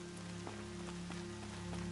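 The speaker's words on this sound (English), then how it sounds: "More rain. My boots will get damp." Rain falls in the Horizon Zero Dawn video game as a steady, faint patter of drops hitting surfaces, with a constant low hum beneath it and no talk.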